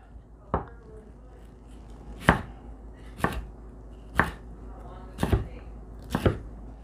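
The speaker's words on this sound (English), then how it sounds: "Now we're going to cut it into strips, probably about 1/4 inch." A knife chops a quail into quarter-inch strips on a cutting board, six sharp separate cuts landing roughly once a second, close and distinct over a quiet background.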